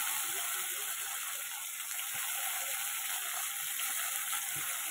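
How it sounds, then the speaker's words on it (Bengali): Okra sizzles in a pan, a steady bright crackling hiss of frying that holds evenly close by, with no voices. "এই যে ভেন্ডিগুলো ভাজা করে নিচ্ছি এবার।"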